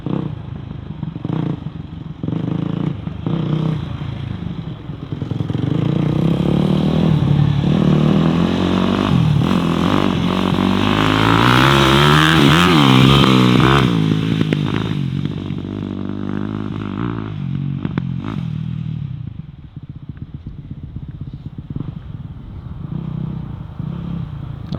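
A 250 dirt bike engine runs nearby, its loud uneven revving rising and clattering through the middle stretch before easing back toward a rougher idle near the end.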